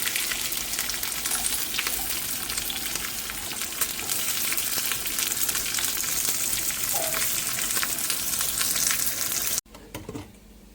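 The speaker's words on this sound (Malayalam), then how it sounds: "കുറച്ച് കടുക് വറുത്ത് അതിൻ്റെ മുകളിലിട്ടാൽ കുറച്ചുകൂടെ ഒന്ന് നല്ലൊരു ടേസ്റ്റ് അതിന് കിട്ടുകയും ചെയ്യും" Mustard seeds frying in hot oil for a tempering poured over a jackfruit and coconut dish, a dense, continuous close crackle and sizzle that cuts off abruptly near the end.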